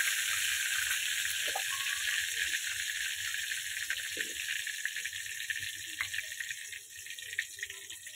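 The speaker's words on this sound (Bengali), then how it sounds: "ফোড়নগুলো ভালো করে একটু ভাজা ভাজা হবে আগে।" Bay leaf and cumin seeds frying in hot oil for a chicken dish, a continuous close sizzle and crackle with faint rattles of the pan throughout, no talking heard.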